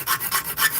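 A hand file rasps across the teeth of a saw blade held in a vise during sharpening, with four steady back-and-forth strokes in an even rhythm, close and fairly loud with no talking.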